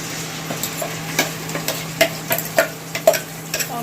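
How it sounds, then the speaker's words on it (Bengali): Potatoes that have been fried crisp are stirred in a pan, giving irregular sharp scrapes and clicks over a faint sizzle and a low steady hum. "আলুগুলো কিন্তু ভালো করে একদম ভাজা ভাজা হয়ে গেছে"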